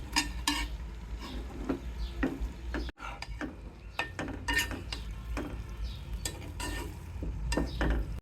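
Onion, tomato and fish cooking in a pan without water, with repeated spatula scrapes and utensil clinks over a low sizzle, close and rhythmic, with a brief break near three seconds.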